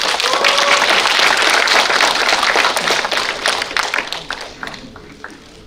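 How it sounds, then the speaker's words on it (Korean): Audience applause at a joint campaign speech meeting in Korea, a dense burst of many hands clapping that loudly fills the room and then thins out and fades over several seconds. "여러분 박수 부탁드립니다."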